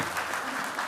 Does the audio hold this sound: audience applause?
yes